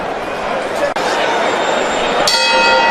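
A boxing ring bell clangs at the close of a round in a professional bout, ringing out over loud, steady arena crowd noise and chatter.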